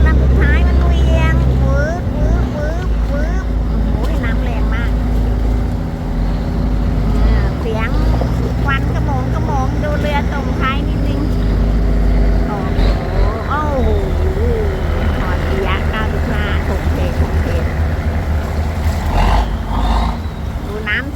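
A tugboat tows cargo barges on a river, its low engine rumble droning steadily while water washes past and someone talks over it throughout.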